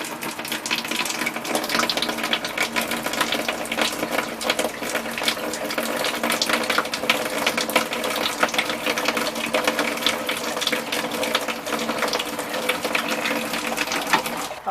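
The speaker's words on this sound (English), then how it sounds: "I'm going to run in some hot water." Hot water runs steadily into a clogged drain in a fifth-wheel RV, a loud, continuous rushing with a rattling, mechanical edge and no talk.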